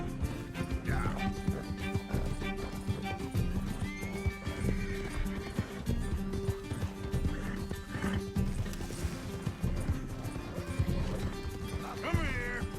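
Horse in the Red Dead Redemption 2 game neighing and whinnying over steady galloping hoofbeats, set against a dense bed of music and ambient noise, with shouted talk nearby.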